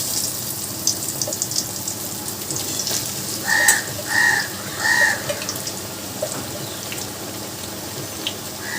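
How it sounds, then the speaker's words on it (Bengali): Bitter gourd pieces frying in hot oil, giving a steady loud sizzle and crackle, with a few brief tonal chirps in the middle. "তেলটা গরম হয়ে গেছে। এবার আমি উচ্ছেগুলোকে ছেড়ে দিচ্ছি।"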